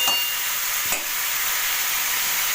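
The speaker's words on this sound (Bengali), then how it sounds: "তো ভালো করে কষিয়ে মশলা, তারপর জল দিয়ে দেবো" Spices and garlic sauté in a pan with a steady, close hiss of frying, and a single brief scrape of stirring cuts in near the start, with no voices.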